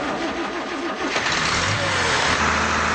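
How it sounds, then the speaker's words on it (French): A diesel engine turns over and catches, then runs with a rough, sputtering rumble amid broadband noise. "voilà la machine qui pétarade à tout va"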